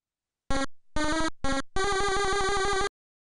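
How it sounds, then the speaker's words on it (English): ZX Spectrum beeper music from the Roadrunner game: four bursts of buzzy square-wave tones, three short stabs followed by a longer rapid stepping melody, loud and alone with no talk. "replaced not by an AY soundtrack, but by a beeper music effect"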